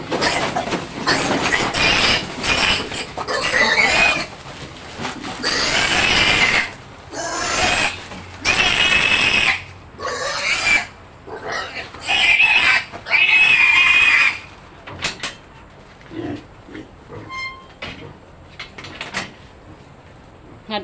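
Young piglets raised for lechon grunt and oink in irregular bursts on a farm, loud and close, with pauses between clusters of snorts.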